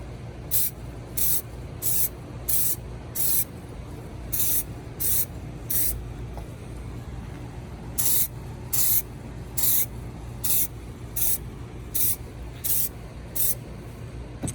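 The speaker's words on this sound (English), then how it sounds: "it's kind of hard to hold the phone and spray paint at the same time" Repeated short bursts of spray paint hissing from a can onto a NASCAR Next Gen model car, in quick irregular groups over a steady low background rumble, with no voices.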